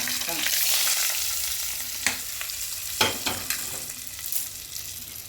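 Curry leaves and mustard seeds crackle and sizzle in hot oil for a Kerala jackfruit dish, a steady frying hiss broken by several sharp pops and spatters, close and alone.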